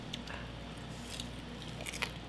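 Briquette-grilled quail being bitten and chewed, bones and all, giving faint, close crunches and crackles at irregular intervals over a quiet background.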